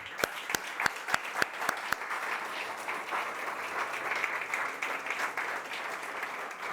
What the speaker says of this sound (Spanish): Ahora, un aplauso, realmente un aplauso para el Señor,